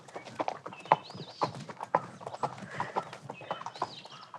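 Horses walk through the Camargue marshes, their hooves clip-clopping in an uneven rhythm over several seconds, with faint bird calls and light background sounds.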